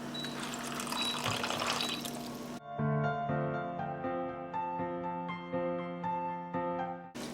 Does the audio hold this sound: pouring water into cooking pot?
yes